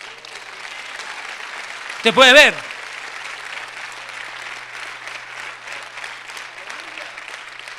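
Congregation applause under a tent at an evangelical preaching service in Hidalgo, Mexico: a steady wash of clapping runs throughout, broken by a short loud vocal shout, while someone speaks over it.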